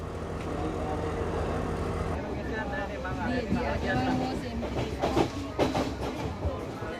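A train runs on Sri Lanka's Main Line, the island's first railway route. A steady low rumble gives way to rhythmic clattering wheels and sharp knocks, loud and close.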